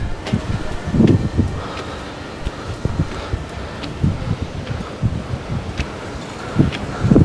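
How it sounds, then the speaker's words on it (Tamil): Steady wind buffets the microphone at Sigiriya, Sri Lanka, with low rumbling gusts, swelling louder at moments, with a faint rustle of leaves behind it. "மேலே வேற நல்லா காற்று"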